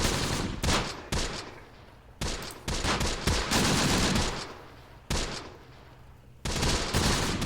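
WW2 rifle fire, including M1 Garand shots, and machine gun bursts crack in a Close Combat battle in Sicily. Several sharp, loud volleys strike at irregular intervals, with quieter gaps and echoing tails between them.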